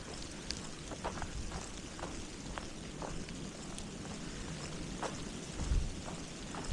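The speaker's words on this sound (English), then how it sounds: "And the rain is picking up a little bit." Steady, faint rain patters on a forest trail in Tourne County Park, a soft continuous hiss with scattered drips, and a few brief low thumps nearby.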